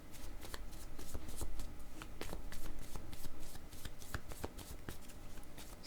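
Image cards for a card reading are shuffled by hand close up, with a continuous run of quick papery riffles and soft slaps, steady and unbroken, with no talking.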